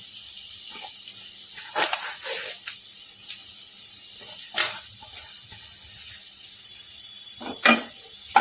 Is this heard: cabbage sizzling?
yes